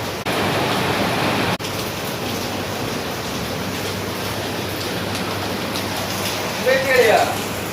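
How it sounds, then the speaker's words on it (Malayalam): Steady rain falls outside a house during a power cut, a constant broadband hiss that holds evenly throughout, with a brief louder patch near the end. "പുറത്ത് നല്ല മഴ."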